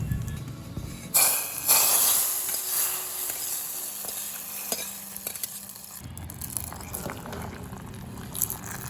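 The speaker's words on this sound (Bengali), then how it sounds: "এবার এই ফোড়নটা আমি ডালের মধ্যে দিয়ে দেবো।" Hot whole-cumin tempering poured into a pot of urad (biuli) dal cooked with bottle gourd bursts into a loud sizzle at about one second, then settles into a steady, softer frying hiss with small crackles; no one speaks.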